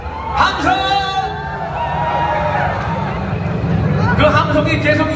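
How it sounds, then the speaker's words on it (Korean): Crowd at the 2024 Gangneung Danoje festival prize draw, cheering and whooping as a continuous broad roar across the whole stretch, swelling with a few brighter shouts near the start and end. "그 함성이 계속 이어졌으면 좋겠는데"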